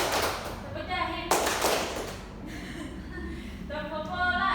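Rhythmic hand claps in a classroom clapping game, quick patterned taps in short bursts under chanting voices, with one sharper louder clap partway through.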